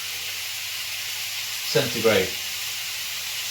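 A chili dish cooks in a pan, giving a steady broadband sizzle and hiss throughout. Someone speaks briefly over it in the middle.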